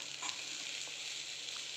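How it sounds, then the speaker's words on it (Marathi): Steady hiss of water hitting hot frying spices in a pan for a Chatpati guar bhaji (cluster bean curry), a continuous broadband sizzle that holds at an even level throughout, with no voices. "आता मी याच्यामध्ये पाणी टाकून घेतो."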